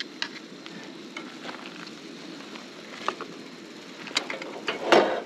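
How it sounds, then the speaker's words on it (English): A scramble of eggs with ham, mushrooms and onion sizzles in a pan while a utensil stirs and scrapes it, with soft scraping strokes and a louder clatter toward the end. "Just give it a little bit more of a scramble, get all the ingredients, the mushrooms, the ham, the onion, all mixed into the eggs."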